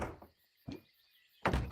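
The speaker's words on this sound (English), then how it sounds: "I'm going to build a door here" In a farming roguelike game, building a door makes three short wooden thunks spaced apart, each a brief knock-like impact with quiet gaps between them.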